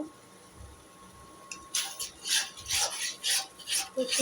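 A utensil stirs and scrapes food in a pan during cooking, a series of rhythmic rasping strokes starting after a quiet moment, close and moderately loud.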